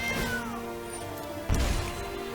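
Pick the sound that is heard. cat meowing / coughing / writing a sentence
cat meowing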